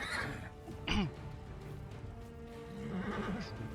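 A plagued horse in Pathfinder: Wrath lets out a sharp whinny near the one-second mark and a second, rougher neigh toward the end, both over a steady game ambience.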